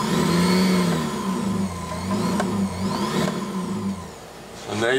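An electric sewing machine motor, run from a repaired YC-482E pedal, whirs steadily nearby, its pitch rising and falling as the speed changes, then briefly surging at the end.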